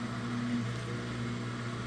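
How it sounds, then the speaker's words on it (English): A Speed Queen washing machine spins up to extract soapy used wash water, a steady mechanical hum with a low tonal drone that shifts pitch slightly as the drum gains speed, fairly quiet and continuous. "Now it's going to spin to extract the soapy used up water."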